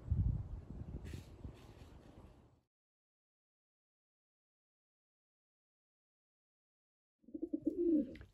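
Soft, low racing pigeon coos close by, one burst at the start and another after a long silent gap.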